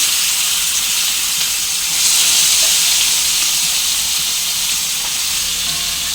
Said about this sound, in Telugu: లివర్ ముక్కలు వేసేసుకుందామండి.